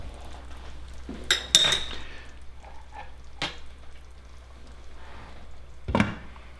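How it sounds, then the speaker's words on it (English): Meatballs in tomato sauce being stirred in a pan, a few close metallic clinks and scrapes of a spoon against the pot with soft wet squelches between them. "Give it a stir and test again."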